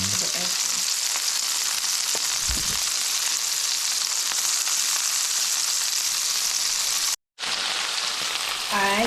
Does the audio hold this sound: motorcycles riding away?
no